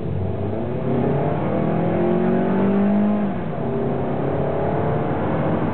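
A Scion car on a test drive pulls off hard from about ten miles an hour, its engine note climbing steadily in pitch as it revs up, then dipping slightly as it shifts and keeps pulling, loud and close.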